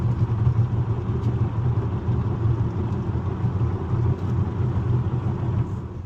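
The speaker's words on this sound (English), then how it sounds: "So this is significantly noisier in the car. So this is a test to see if the audio picks that up, if you hear the thumping and bumping." Steady road noise inside a moving car on city streets: a loud, continuous low rumble of tyres and engine, with faint bumps running through it and no talking.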